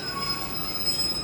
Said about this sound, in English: We got another 150 coming in on platform 1